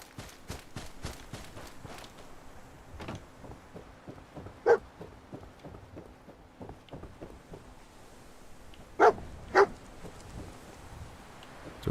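In Fallout 4 with the Sim Settlements 2 mod, the companion dog Dogmeat gives a few sharp barks amid soft, regular footsteps, mostly faint with a couple of louder, closer yelps.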